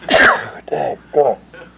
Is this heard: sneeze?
yes